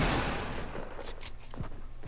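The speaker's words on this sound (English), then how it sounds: "Now get your shotgun out and try and kill me" Shotgun blasts ring out in a video game, several quick loud bursts in close succession followed by a couple of fainter, sharp reports, with a dense crackling background.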